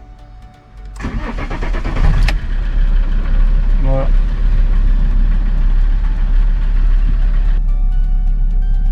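An Alfa Romeo 159 diesel engine turns over and fires up within a second, then settles into a steady, loud clattering idle; a voice speaks briefly.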